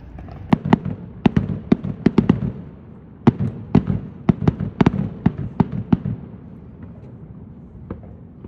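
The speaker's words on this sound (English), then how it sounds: "Today we are going to be viewing the 4th of July fireworks" Fourth of July fireworks in Ohio pop and crackle in quick irregular bursts of sharp bangs, loud and fairly close, thinning out toward the end with a few scattered reports.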